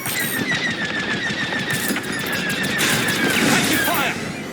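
Rapid blaster fire from starfighters in the Star Wars Squadrons space combat game sounds as a dense, loud, continuous stream of zapping shots layered with explosions and engine roar, with a voice speaking over the battle.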